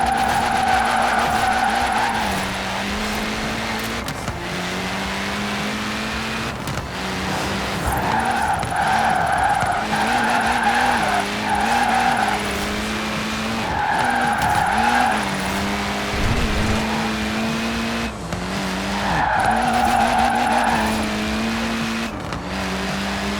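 Car drifting in Forza Horizon 4 Drift Club, with loud sustained tire squeal rising and falling in repeated bursts over a steady engine drone, continuous and close throughout.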